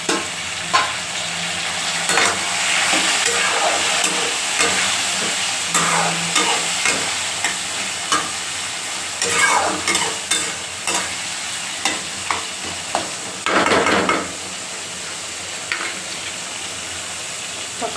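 Steady sizzling and hissing of tomatoes frying in hot oil for a fish curry, with intermittent stirring scrapes and clatters rising in the middle, continuous throughout.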